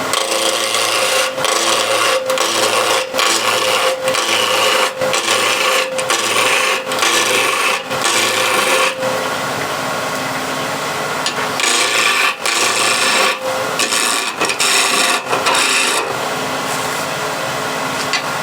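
A woodturning gouge cuts into spinning wood on a lathe, giving a continuous loud rasping scrape with rhythmic catches every second or so, steady and close throughout.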